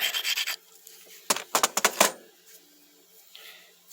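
A metal file rasps a bevel back onto a flattened edge in a burst of short, close strokes, then a few quieter scrapes follow.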